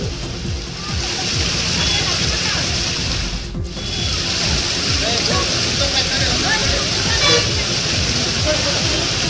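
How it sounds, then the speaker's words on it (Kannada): Floodwater pours down the steps of the Kalasa temple during heavy rain, a loud, steady rushing roar that fills the whole stretch with continuous turbulent churn. "ಕಳಸ ದೇವಸ್ಥಾನದ ಮೆಟ್ಟಿಲುಗಳಿಂದ ನೀರು ಧುಮುಕ್ತಾ ಇದೆ"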